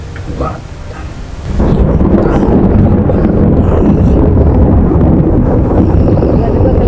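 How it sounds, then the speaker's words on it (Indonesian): A loud crash of thunder breaks in after a quieter opening, then rumbles on as a sustained heavy roar with rain and wind noise, near and powerful, during a visit to a grave site in Ponorogo. "Tiba-tiba geledek, kencang banget."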